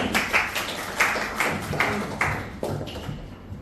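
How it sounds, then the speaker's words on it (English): An audience at a summer interns' farewell event gives a short round of applause, a close, fairly loud burst of claps with several distinct strong hits that tapers off within a few seconds. "Round of applause."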